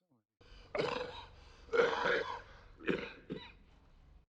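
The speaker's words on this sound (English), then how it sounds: "It sounds like a pneumonia cough." Several rough coughs and throat-clearing sounds in quick bursts, close and moderately loud, with short pauses between them.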